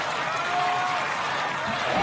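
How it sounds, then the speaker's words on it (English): Loud, steady applause and cheering from a large crowd at the American Ninja Warrior Las Vegas national finals, a continuous roar of clapping with no break. "the crowd sensing something special. Yeah, they're going nuts."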